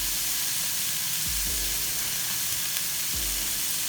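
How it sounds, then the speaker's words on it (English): Steady loud sizzle of fresh herbs dropped into a hot pan of vegetables for shrimp veggie pasta, continuous hiss with a few low thumps as ingredients land, close up. "I'm dropping my fresh herbs in there."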